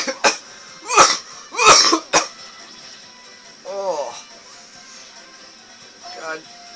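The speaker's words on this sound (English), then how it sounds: "Freaking cough." A person coughs in a cluster of loud, harsh hacks close to the microphone, then clears the throat a couple of times more quietly.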